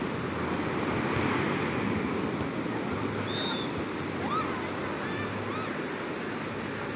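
Ocean surf washes steadily onto Mariveles Beach in Bataan, a broad continuous roar with wind buffeting the microphone throughout, and a few faint distant voices and calls drift over it.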